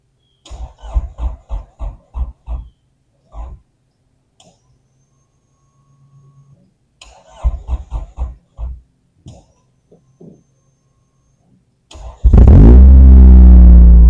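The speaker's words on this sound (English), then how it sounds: "let's go ahead and get her started and" A Honda Prelude engine cranks, catches and settles into a loud, throaty idle right at the end, after long stretches of quiet and several bursts of clattering, mechanical noise nearby.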